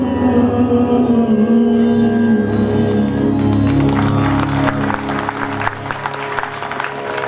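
Enthusiastic applause from an audience at an Independence Day ceremony fades in over lingering sitar strings, clapping growing dense and sustained toward the end.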